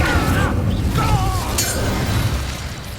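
A fire spell cast in the wizarding game Hogwarts Legacy: a loud whooshing, crackling burst with a boom, continuous and near over constant game ambience, with brief voice-like tones near the start.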